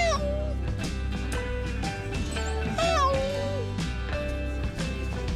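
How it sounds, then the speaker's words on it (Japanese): A rescued orange tabby cat at a pet adoption event meows several times in clear, rising and falling calls over loud, constant background music. "チャトラ猫ちゃん、新しい飼い主さんが来てくれるのを待っています。"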